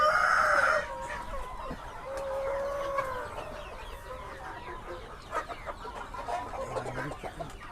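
A flock of KUB chickens, unfed and waiting for food, cluck and call steadily, with a loud rooster-like crow at the start, then busy chattering close by.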